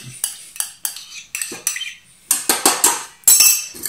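Yeast being stirred into prepared liquids for homemade bacon hamburger buns, a utensil clinking and scraping against a bowl in a series of quick, close strokes with short pauses between, no voices.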